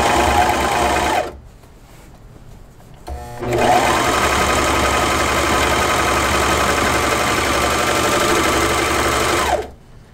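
Brother Airflow 3000 serger stitching down a shirt seam, a loud, steady high-speed whirring hum that runs, pauses briefly, then starts again and runs for several seconds before cutting off.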